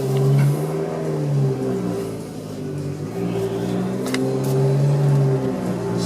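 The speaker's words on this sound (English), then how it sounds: "So if it sounds like a car with the exhaust pipe broken, that's kind of the bargain you make with this thing." Fiat Abarth hatchback with a 5-speed manual, its engine revving and pulling through gears with a loud, raspy exhaust drone that rises and falls, heard close from inside the car.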